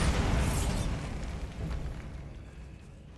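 The Bombarda blasting spell explodes inside a decaying catacomb in Hogwarts Legacy: one booming blast that rolls and fades over a few seconds, with no voices.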